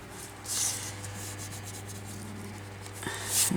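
Eraser rubbing across journal paper at close range, a few short scrubbing strokes with brief pauses between them, soft and dry.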